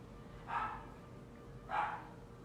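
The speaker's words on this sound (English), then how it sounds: "I have a dog in the background." A dog barks twice, faint and somewhat distant, with the two short barks about a second apart against a quiet room.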